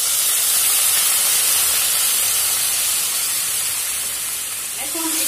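A little water poured over green beans frying in a pan for a vegetarian sim chorchori sets off a loud, sustained steam hiss that eases slightly toward the end.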